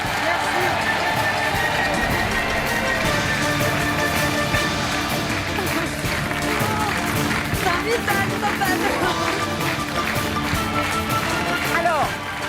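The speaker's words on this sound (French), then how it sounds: "Et on vous applaudit très fort." Studio audience applauding two contestants on a television game show, sustained loud clapping with cheering and music underneath, steady from start to finish.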